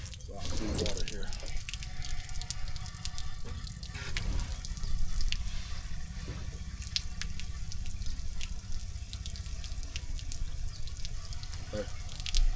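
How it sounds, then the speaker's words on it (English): Fresh water rushing steadily through a gray waste hose at a lakeside RV dump station, a continuous hissing gush with occasional clunks, loud and close, with people talking over it. "I'm gonna run some more water through that hose."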